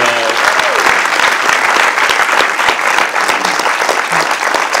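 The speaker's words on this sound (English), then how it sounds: "You gotta enjoy the applause" Loud, dense applause from a large audience at a film Q&A with Jake Gyllenhaal, a steady wash of many clapping hands that goes on throughout, with faint voices underneath.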